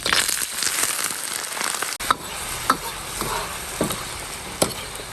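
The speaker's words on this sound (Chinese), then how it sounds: "给它先炒一下，炒上色" Pork ribs stir-fry in a hot wok for sweet and sour ribs, with a steady sizzle broken by sharp scraping clanks of the spatula against the metal every second or so, heard close up.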